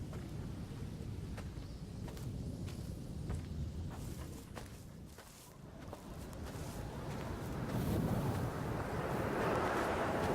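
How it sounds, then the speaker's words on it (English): Coastal wind in the game Dear Esther blows as a steady rushing roar that builds louder toward the end, with a hint of surf and a few faint clicks beneath. "the wind's picking up again"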